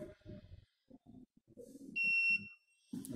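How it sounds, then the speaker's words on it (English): A Rockwell hardness testing machine with a ball indenter under a 100 kgf load gives a single clear, steady electronic beep lasting about half a second, heard between stretches of a voice. "It will provide you the beep."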